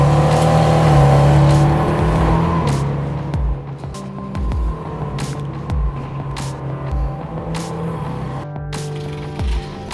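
A Porsche 911 SC engine runs loud and close, with a heavy rumbling idle that swells into revs early on, then settles into a steadier, uneven throb with brief bursts of throttle.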